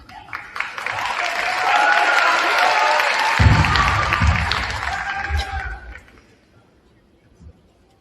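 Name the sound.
audience applause at school promotion ceremony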